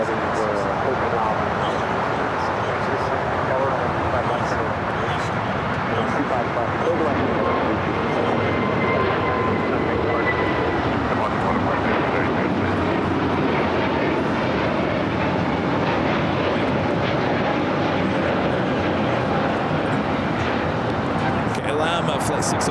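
A KLM Boeing 777-200ER jet at LAX, a loud continuous broadband engine roar that holds steady throughout, with a voice talking over it.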